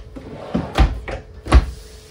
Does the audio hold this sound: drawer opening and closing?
yes